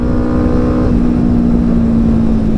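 Yamaha R25 motorcycle fitted with a new exhaust, its engine droning loud and steady at high revs while riding, a continuous buzzing tone with no pauses.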